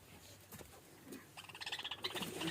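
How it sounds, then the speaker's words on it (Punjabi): Australian parrots chatter and call at a bird spot, a burst of quick, bright, repeated chirps building in the second half, fairly faint against a soft background. "ਆਸਟ੍ਰੇਲੀਅਨ ਤੋਤੇ ਮਾਸ਼ਾਅੱਲਾ ਕਿੰਨੇ ਖੂਬਸੂਰਤ ਹੈ"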